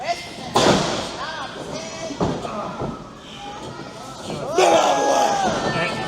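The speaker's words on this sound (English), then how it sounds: "Slams to the mat like he's nothing" A wrestler is scoop-slammed onto the ring mat at an anniversary wrestling show, heavy thuds landing among a loud, roaring crowd with shouting and chatter throughout.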